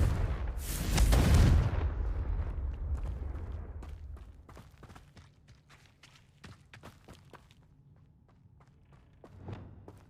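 A Confringo spell blast in Hogwarts Legacy bursts loud and booming near the start, then decays into a rumbling tail with scattered light thuds and clicks of gameplay afterward.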